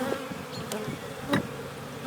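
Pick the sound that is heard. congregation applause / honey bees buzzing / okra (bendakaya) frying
honey bees buzzing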